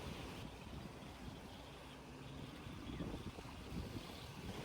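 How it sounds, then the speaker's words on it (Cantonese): Sea waves lap against the shore in a soft, continuous wash with gentle surges, faint and distant with some wind noise and no voices. "我哋可以聽一聽海浪拍打岸邊嘅聲音。"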